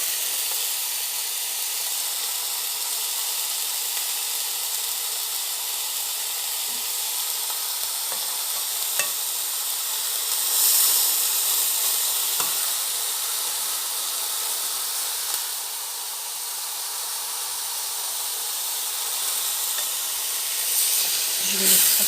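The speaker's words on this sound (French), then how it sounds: "Voilà, mes steaks sont en train de cuire." Steaks frying in a pan, a continuous bright sizzle and hiss with occasional pops and spits, steady and close for the whole stretch.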